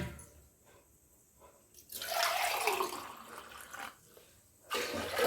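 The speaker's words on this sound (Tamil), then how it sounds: "மூணு மடங்கு தண்ணி வச்சுட்டேங்க." Water poured into a cooking pot for boiling rice and ragi kali, a steady splashing gush that runs for about three seconds, then breaks off and resumes briefly at the end, close and fairly loud.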